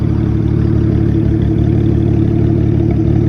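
A BMW car exhaust rumbles loud and steady at close range, a deep, continuous drone with no break in level throughout.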